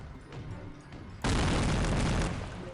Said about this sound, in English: Oh geez, that was an explosion.